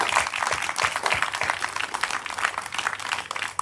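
Crowd applause at an overdose awareness candlelight vigil, a sustained, fairly close burst of many hands clapping at a steady, dense rhythm.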